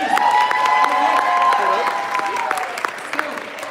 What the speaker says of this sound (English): a round of applause for Doris on the piano, please.